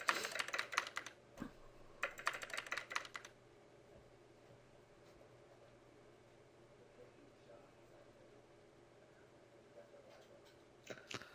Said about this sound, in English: Look at all those hands just typing away.